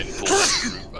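A single short sneeze, close and fairly loud, occurring during a voice chat while raiding Molten Core in Project Ascension; other talk sits around it.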